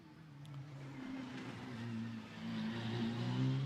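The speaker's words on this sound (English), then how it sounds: "Mercedes powering its way up towards turn 15" A Mercedes AMG GT race car in the GT2 Europe series at Misano, its engine climbing steadily in pitch as it accelerates, heard from a distance with a broad background roar.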